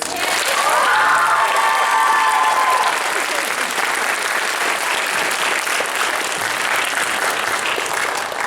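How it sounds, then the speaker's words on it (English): An audience at a school one act play festival awards evening applauds the judges, with steady sustained clapping that stays loud throughout and a few whistles early on. "Can I have a round of applause for our lovely judges?"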